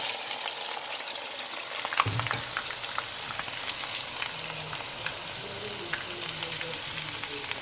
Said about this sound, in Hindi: अब हम इसमें प्याज ऐड कर देंगे।